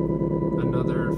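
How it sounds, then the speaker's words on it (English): Mixer feedback sample, a steady dense droning tone with a strong held pitch and harmonic buzz, loud and continuous throughout the short stretch with faint flickering overtones on top. "another feedback sound that I used."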